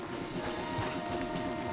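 In Red Dead Redemption 2, horses' hooves clop in a brief, steady, moderately close rhythm along a forest path.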